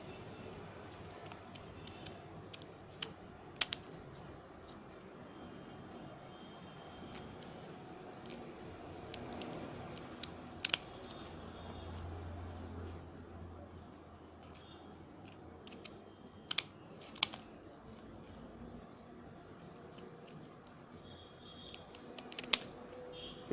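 Scissors cut paper for a craft project in faint, sparse snips and clicks scattered irregularly over a quiet room background, with no talk.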